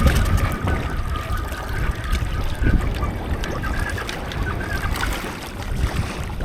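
Lake water churns and splashes steadily around a 2023 Can-Am sinking in Brick Lake, a continuous close wash of waves with no voices.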